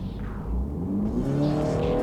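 A tuned Mini Cooper Clubman with roughly 80 extra horsepower pulls hard from a rolling start on a road test. The exhaust note climbs steadily in pitch as the engine revs rise, close and loud, with no talking.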